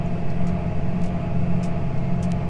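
A tractor pulling a grain cart during an Ohio corn harvest gives off a steady, close engine drone that holds constant throughout, with no talk.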